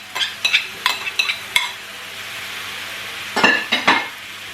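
Grated tomato goes into a hot pan for fideuà, sizzling as it is stirred, with a run of close scraping and clinking strokes against the pan in two short bursts.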